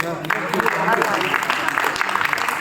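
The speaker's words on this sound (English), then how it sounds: "Big round of applause for" Clapping from members at an annual general meeting, a busy crackle of hands heard close and continuous, with voices talking over it throughout.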